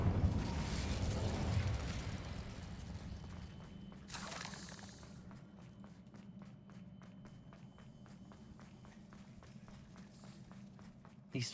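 A spell blast in the video game Hogwarts Legacy during a fight with spiders: one sharp burst midway, set against game rumble and followed by a long run of quick, even footfall-like ticks.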